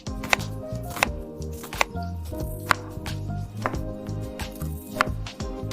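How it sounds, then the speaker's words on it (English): A knife chopping a large onion into small cubes on a cutting board, a run of close, distinct knocks at an uneven rhythm over a faint background, with no talking. "I'll chop the onion into small cubes."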